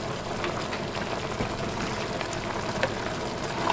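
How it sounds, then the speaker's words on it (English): Haitian stew chicken with okra simmering in a pot, a steady close bubbling and popping hiss that runs unbroken with no voices. "I'm going to allow this to simmer for a good 15 to 20 minutes, just so my okra can cook"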